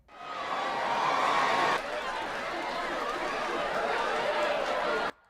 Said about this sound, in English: I'm gonna go ahead and go to Crowds, Standing Ovation